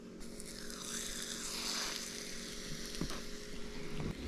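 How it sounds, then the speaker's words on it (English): Batter for a 1920s vintage recipe sizzling as it goes into a cast iron pan, a steady soft hiss with faint clinks, close and fairly quiet, no talking. "Let's see if we can hear the sizzle when we put them in this iron one."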